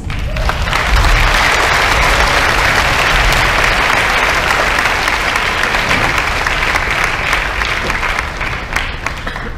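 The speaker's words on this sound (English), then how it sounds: "Let us give ourselves a round of applause." Graduates applaud at a graduation ceremony: loud, dense, sustained clapping from a large crowd that fills the whole stretch, steady from start to end with no talk.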